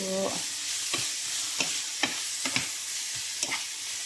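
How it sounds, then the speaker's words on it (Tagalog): Spinach stirred in a frying pan for a spinach and parmesan chicken dish, a steady close sizzle broken by repeated sharp scraping strokes of a utensil against the pan, with no talking. "Halo-halo lang natin yung spinach para maluto siya."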